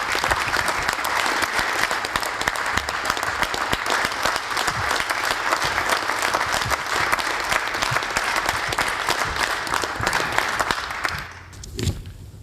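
Sustained applause fills a legislative chamber as members welcome an honored guest at a VE Day 70th anniversary ceremony, steady dense clapping that fades out near the end.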